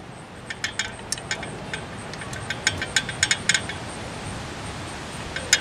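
Small metallic clicks and clinks of a nut being threaded onto a bolt over a washer, a scattered run of light taps close by over a steady hiss.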